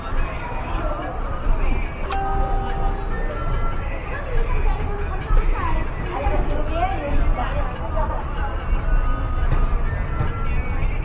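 A passenger train pulls out of a large station in the evening, its rumble and rail clatter steady and loud throughout, mixed with crowd chatter and announcements.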